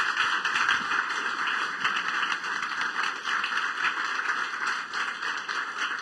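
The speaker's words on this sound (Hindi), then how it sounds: "फिर जोरदार तालियां बजा दें यीशु के लिए।" A church congregation claps loudly for Jesus during a sermon, a dense and steady wash of applause holding at an even level throughout.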